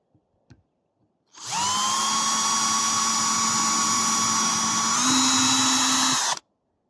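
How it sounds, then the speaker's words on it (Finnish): Power drill boring a hole while repairing a Jonsered GT2128 string trimmer, a single sustained high whine that starts abruptly, holds steady for about five seconds, rises slightly in pitch near the end, then cuts off, loud and close. "poraan lisää siis vielä."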